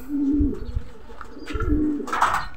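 Racing pigeons cooing during race training, two soft, close, throaty coos with a brief flutter or chirp between them.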